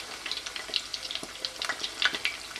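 Fish pieces frying in oil for fritto misto, a steady bright sizzle with crackling pops spread across the clip, fairly quiet and close, with no talking.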